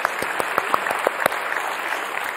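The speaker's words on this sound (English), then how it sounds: "Let's give them a clap too, because they can hear us." An audience at a relaxed lunchtime classical concert in a hall claps steadily, a dense, even wash of applause filling the whole stretch.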